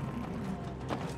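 Small flying robot vacuum cleaners in the video game It Takes Two give off a steady mechanical whirring and rattling, with faint clicking, that runs continuously at moderate volume with no talk.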